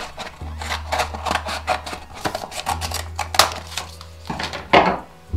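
Scissors snip through folded paper in a quick series of close, crisp cuts, with a brief pause midway and a few louder snips near the end.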